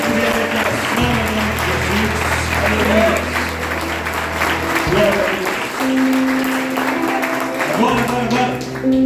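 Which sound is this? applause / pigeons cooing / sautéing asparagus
applause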